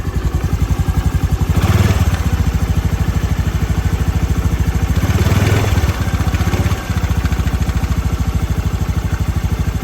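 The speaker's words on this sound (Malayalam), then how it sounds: "വണ്ടി ഒന്ന് സ്റ്റാർട്ട് ചെയ്ത് ഒന്ന് നോക്കുക. എൻജിൻ്റെ സൗണ്ട് എങ്ങനെ നോക്കാം." A 2015 Honda Dio scooter engine runs steadily at idle after being started, a loud, close, even putter with a brief rise in revs around two and five seconds, with no talking.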